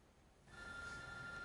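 A mobile phone rings in a courtroom during a family court hearing, a steady electronic tone starting partway in and continuing fairly loud over low room noise, with no speech.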